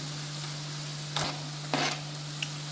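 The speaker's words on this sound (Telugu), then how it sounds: "ఇప్పుడు మనం తరుక్కున్న బీరకాయ ముక్కల్ని యాడ్ చేసుకోవాలి" Chopped ridge gourd pieces go into a pan with ginger-garlic paste. A soft low sizzle runs under a steady hum, and two or three quick clattering drops are heard as the pieces land.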